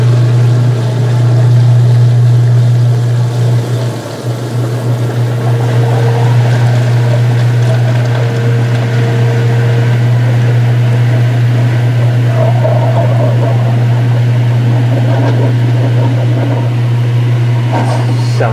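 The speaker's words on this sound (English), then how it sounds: "Sounds like pump cavitation." A washing machine pump runs with cavitation, a loud steady droning hum with churning and gurgling over it that holds constant throughout.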